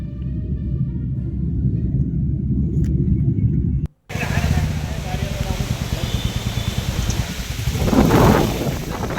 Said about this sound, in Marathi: वादळी वाऱ्यासह जोरदार पाऊस होतोय